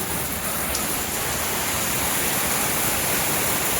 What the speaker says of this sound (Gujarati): જુઓ કેટલો વરસાદ આવે છે